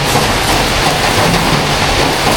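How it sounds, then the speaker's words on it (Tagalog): Steady, dense rain hiss fills the whole stretch at a constant loud level, falling outdoors at a market stall with no voices over it. "Pasensya na guys dahil umuulan ngayon dito sa lugar namin."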